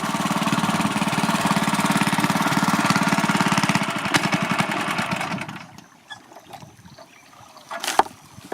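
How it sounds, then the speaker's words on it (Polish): An old, faulty outboard boat motor on the Amazon runs loud and steady with a dense rattling drone, then cuts out, leaving quieter water and ambient sounds with a brief sharp knock near the end. "O motor tá um pouco com problema. Já tá velhinho, né?"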